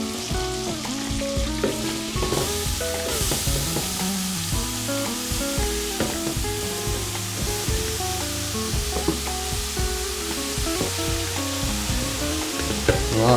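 Carrots, 2.5 kilograms of them, tipped into melted butter bubbling in a pot for gajar ka halwa, with a steady dense sizzle and frying crackle that runs evenly throughout, alone with no talk.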